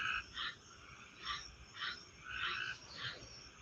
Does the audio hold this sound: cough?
no